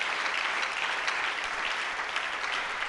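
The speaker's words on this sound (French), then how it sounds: "Est-ce qu'on peut donner une louange d'acclamation pour sa gloire?" Church congregation applauding together at a Sunday service, a steady dense wash of clapping heard close and loud for a few seconds with no talking over it.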